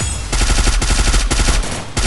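Rapid in-game gunfire from a Free Fire battle royale match, a dense burst of loud repeated shots in quick automatic rhythm with a few sharper single cracks, no voices.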